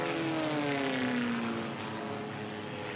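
Propeller racing airplanes of the Formula One class roar past at the Reno Air Races, a loud droning engine note sliding down in pitch as one passes close by, then fading into a sustained distant buzz.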